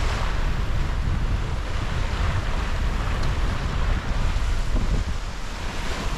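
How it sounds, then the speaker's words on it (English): Sailboat crossing from Shetland to the Faroe Islands in a sudden strong breeze: steady roaring wind buffeting the microphone over rushing waves and hull wash, loud and continuous with no talk. "sudden strong breeze occurred"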